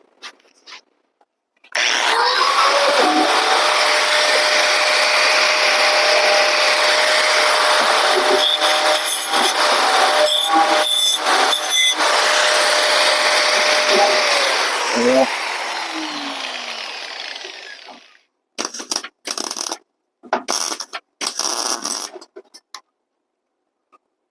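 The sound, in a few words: small grinder grinding metal on a 1954 International R-220 truck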